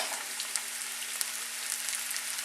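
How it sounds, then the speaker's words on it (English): Fresh sliced wild mushrooms simmering in a large skillet, giving a steady, soft, even sizzle with faint crackles throughout and no talking. "So as you can hear them simmer."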